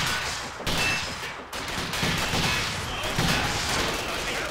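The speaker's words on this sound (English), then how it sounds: "they are definitely shooting at us" Battle gunfire in the Company of Heroes 2 video game: dense, overlapping rifle and machine-gun bursts rattle continuously and loudly, with a few sharp cracks and short dips between volleys.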